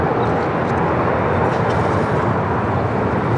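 A jet airliner on its approach into LAX after a flight from Anchorage, heard as a steady, loud, broadband engine roar that holds evenly throughout with no talk over it.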